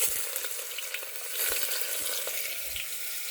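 Chopped, pre-washed onions frying in hot oil with crackling mustard seeds, a steady close sizzle with occasional stirring scrapes and clicks, no voices.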